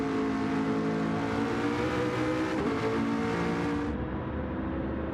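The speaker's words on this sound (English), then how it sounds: "Hopping and banging on the downshifts." GT500 race car in a racing video game at Daytona International Raceway, engine roaring loud and continuous with popping, banging downshifts as it brakes into a chicane, no talk.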